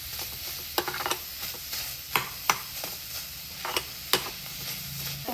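Chopped onions sizzle steadily in a hot pan as a spoon scrapes and stirs them in a series of sharp, irregular clacks, frying until lightly pink for a chicken dish, with no talking.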